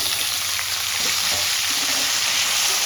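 Potato pieces and pumpkin stalks fry in a pan, giving a continuous, fairly loud sizzle with light crackling and a few soft stirring knocks throughout.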